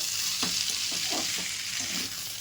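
Mixed vegetables for a Bengali mixed-vegetable chorchori fry in a pan with a steady hiss, broken by several soft scraping stirs of a spatula at irregular intervals, close by.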